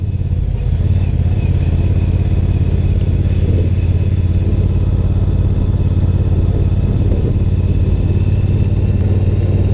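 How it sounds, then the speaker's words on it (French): A Triumph Bonneville Speedmaster twin-cylinder motorcycle engine runs steadily and loud throughout, a deep, even low rumble with no voices. "Ah, la sonorité de ce bicylindre."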